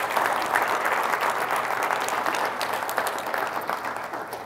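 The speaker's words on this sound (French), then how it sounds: "je donnerai une bonne main d'applaudissements à ces personnes-là." An audience applauds steadily and loudly for several seconds at a rural-themed presentation, a dense wash of clapping with no voices.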